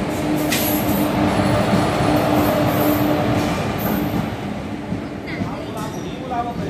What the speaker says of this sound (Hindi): अभी ट्रेन आने वाली है, हम लोग स्टेशन पे बैठे हैं।